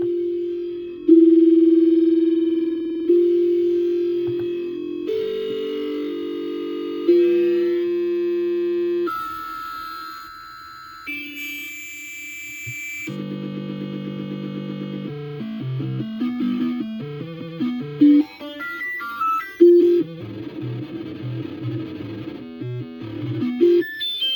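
A homemade step synthesizer's sine wave steps through a series of pitches as bit depth drops from 16 toward 0, growing harsher, buzzier and more distorted, with no voices.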